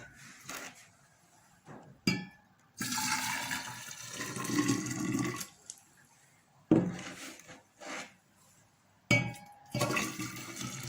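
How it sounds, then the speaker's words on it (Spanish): Hot and cold water is poured from cups into another cup for mixing, heard as several separate splashing pours of a few seconds each with short pauses between them, fairly close and with no talking. "Ahora pasaremos a mezclar 2 tazas de agua caliente y una de agua fría."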